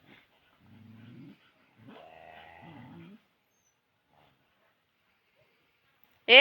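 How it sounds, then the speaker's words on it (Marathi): A dog growls low in two short stretches with quiet gaps between, then a sudden sharp, loud sound cuts in at the end. "त्या कुत्र्याने तर गुरगुरताय"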